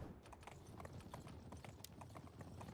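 Horse hooves clip-clop in a steady, quick rhythm in the video game Conqueror's Blade, quiet and somewhat distant under a low background hum.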